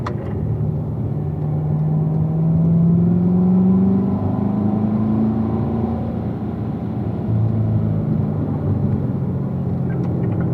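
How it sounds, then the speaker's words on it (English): A car on a race track drones along with a steady engine rumble, its note dropping and settling as it shifts from third into fourth gear, heard from inside with no talking. "Now as you apex, unwind that steering wheel, shifting from third to fourth gear now."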